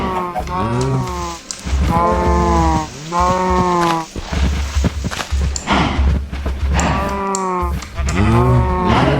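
Cows moo in the Minecraft video game, a farm being built for them. Several long, loud, drawn-out moos come one after another, close and clear, separated by brief gaps.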